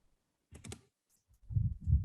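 Keys on a computer keyboard are tapped to enter a code, a short cluster of clicks followed by a pause and then a few heavier, duller key presses close to the microphone.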